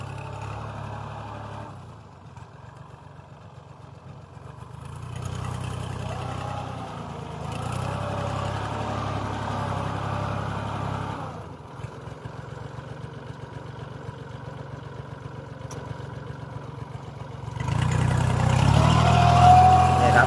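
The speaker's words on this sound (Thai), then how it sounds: "นี่อันนี้เป็นน้าผู้หญิงนะครับผมขับ รถไถนะครับผม" A tractor ploughing a field for soil preparation runs steadily and fairly loud for the whole stretch, its mid-pitched engine drone rising and easing a little, with a heavier surge near the end.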